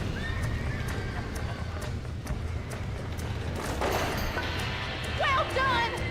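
Horses in the Western video game Red Dead Redemption neigh and whinny repeatedly over steady hoof clip-clop and busy game ambience, with a louder whinny near the end and a voice talking over part of it.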